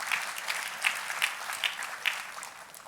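Dense applause from a church congregation, a continuous patter of many hands clapping with a few louder swells, heard at moderate distance.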